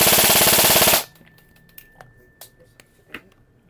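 An E&C airsoft rifle fires on full auto in a rapid, loud, evenly spaced burst lasting about a second, followed by quieter scattered clicks and handling taps.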